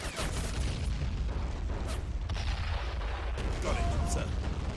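Gunfire and explosions from the World War II strategy game Men of War: Assault Squad 2, a dense barrage of booms and shots over a continuous rumbling battle background, with scattered louder bursts throughout.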